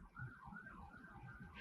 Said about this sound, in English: now there's an ambulance.